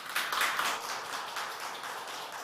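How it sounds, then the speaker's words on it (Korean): Audience applause at a conference presentation on social ventures in Busan, a steady wash of many hands clapping throughout, moderately loud and continuous without speech. "박수로 맞이해 주세요"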